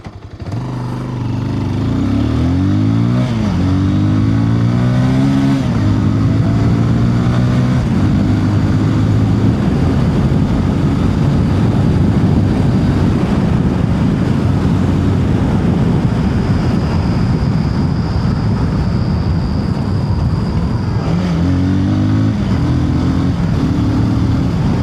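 Bajaj Pulsar 220F motorcycle engine revving and pulling steadily while ridden, a loud continuous drone with rising tones at the start and again near the end, no voices present.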